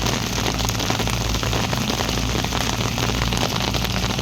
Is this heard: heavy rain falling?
yes